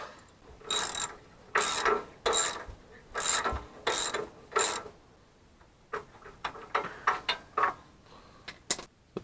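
A ratchet wrench clicks in short bursts while removing a spark plug from an 18-horsepower twin-cylinder Kohler engine on a Gravely rear-engine tractor, first in slower grouped turns, then in quicker, lighter ratcheting strokes, close and clear with no talk.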